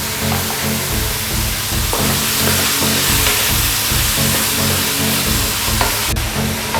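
Onions sizzle in a pan, cooking down for an okra curry with a loud, steady close frying hiss and a few faint stirring scrapes.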